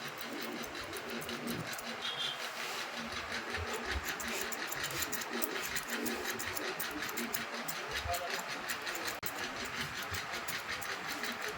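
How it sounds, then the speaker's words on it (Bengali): Electric hair clippers trim excess hair on a boy's zero cut, giving a continuous quiet buzz with a fine rhythmic rattle while a voice talks over it. "বাড়তি চুলগুলো আমি এভাবে কেটে দেবো"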